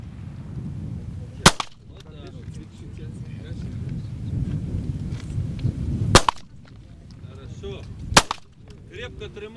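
Three sharp pistol shots ring out at a firing range, spaced apart, over a steady background murmur of people talking.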